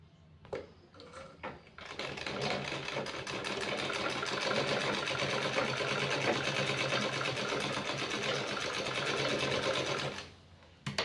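Sewing machine running a continuous stitching burst for about eight seconds along a half-inch shoulder seam, a close steady mechanical whirr that starts after a few clicks and stops abruptly near the end.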